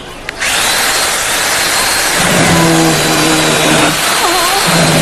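A loud, continuous power-saw whine grinding through material, with a steady harsh roar and shifting tonal hum as the blade cuts.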